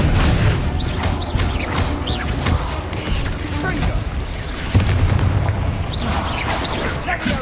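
Expelliarmus spell cast during combat in the video game Hogwarts Legacy, amid a dense, loud wash of booming blasts and crashing impacts that runs continuously through the moment.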